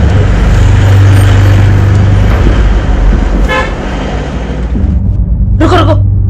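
A car engine rumbles loudly and steadily up close amid road noise, with two short horn toots partway through and toward the end.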